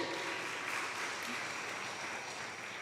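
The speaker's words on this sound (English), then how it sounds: "Can we please give a round of applause for that?" Audience at an academic public lecture on the history of Islam in Lombok applauds, a steady dense wash of clapping sustained evenly throughout without voices on top.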